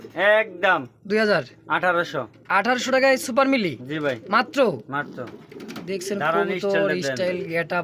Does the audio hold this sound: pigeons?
yes